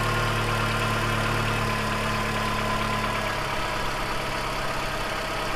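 The engine of a salvage Audi A3 runs at a steady, close idle with a low drone and a slight knock, and the tone shifts a little partway through, with no talking.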